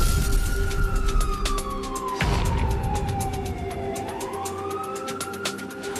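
Wailing emergency sirens from fire engines sent to a large fire in the Bukit Ho Swee and Tiong Bahru area, a sustained loud rising-and-falling tone over a dense rumble of traffic and crowd noise.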